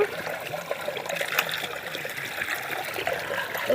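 Tapioca roots being washed with water, a steady close trickling and splashing that runs continuously with no talk.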